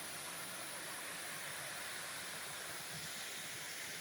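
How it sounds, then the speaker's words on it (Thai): A waterfall and stream at a mountain campsite in Thailand make a steady, broad rushing hiss of falling water, constant and even in level, with no voices. "ด้านหลังเราจะเป็นน้ำตกนะครับ"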